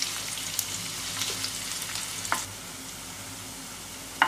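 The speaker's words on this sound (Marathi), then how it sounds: "आता त्याला छानपैकी फोडणी देणार आहोत" Ginger, garlic and chilli sizzle steadily in hot oil, a dense continuous crackle with a few brief clinks of a spoon against the pan, heard close with no talking.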